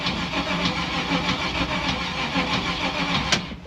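A classic car's engine sputters and burbles on a cold start, a steady rough rumble running close and loud throughout before catching briefly near the end.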